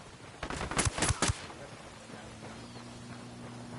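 Gunfire on enemy grunts in Ghost Recon Wildlands rings out as a short, loud burst of four or five rapid shots in under a second, followed by a quieter low, steady hum.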